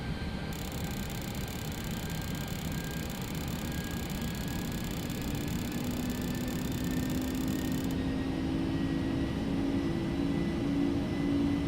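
Simulated Boeing 747-200F jet engines on final approach in X-Plane, a steady, loud roar with a faint whine that swells slightly toward the end, with no talking over it.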